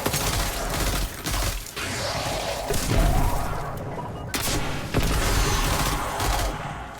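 Rocket blasts and rapid gunfire from a video game fill a loud firefight, with dense bursts and booms following each other almost without a break.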